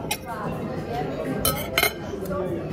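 Busy New York City restaurant dining room with plates and cutlery clinking in sharp bursts over a dense bed of crowd chatter and background noise.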